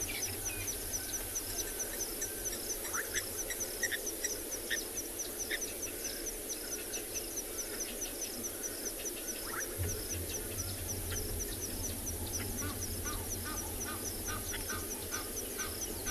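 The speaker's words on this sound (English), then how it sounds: "there are a lot of birds calling" Many birds call and honk continuously in an outdoor sunrise chorus on safari, mixed with steady insect-like buzzing and a low ambient hum.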